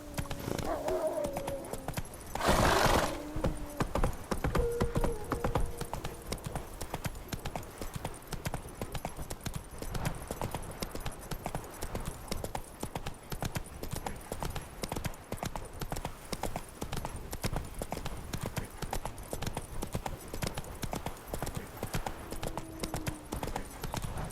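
Horse hooves clip-clopping steadily in the game The Witcher 3, a soft, even rhythmic trot continuing throughout, with a short burst of louder noise near the start and a brief voice.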